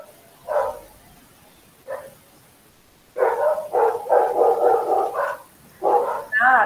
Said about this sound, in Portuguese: E os cachorros doidos aqui latindo.